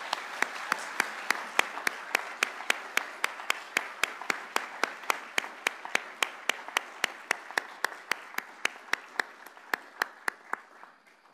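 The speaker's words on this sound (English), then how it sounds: "Please join in a round of applause for our prize winners." An audience applauds prize winners at a 2022 scholarships and awards celebration: a dense, sustained wash of clapping, with one nearby clapper's sharp, regular claps standing out for about eleven seconds before it starts to thin.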